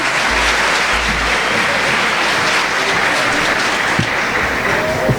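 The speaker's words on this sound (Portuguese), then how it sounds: "Salva de palmas para Jesus." A church congress congregation breaks into loud, continuous applause for Jesus, a thick wash of many hands clapping at once, steady and close throughout, with faint voices mixed in.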